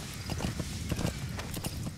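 Rapid horse hoof clip-clops in Metal Gear Solid V: The Phantom Pain patter at a steady trotting rhythm, moderately loud over a constant background bed.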